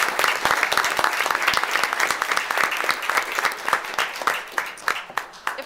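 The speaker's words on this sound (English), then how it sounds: "Let's give one more round of applause for all our top Tigers." Applause from the audience at a Cuyahoga Falls City Schools board of education meeting, a steady round of many hands clapping that carries on for several seconds and fades slightly toward the end.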